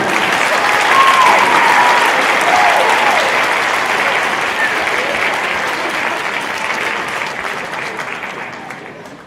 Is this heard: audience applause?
yes